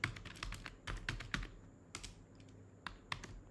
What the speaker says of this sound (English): Type main keyword and press Ctrl+Space key.